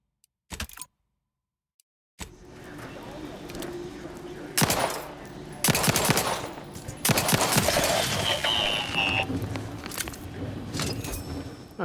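Sharp video game gunshots ring out as a player fires at a unit in Outer Wilds 2, with a few loud bursts of shots scattered over other game sounds after a brief silence.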